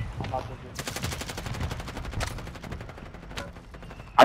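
Video game gunfire, a rapid automatic burst of evenly spaced loud shots running for a few seconds, followed by a couple of isolated cracks and a sharp louder hit at the end.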